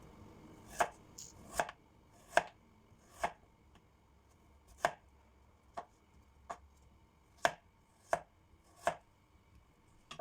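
A knife slices potatoes into rounds for garlic potatoes, about ten crisp, evenly spaced chops against a board, close and clear with little else behind them.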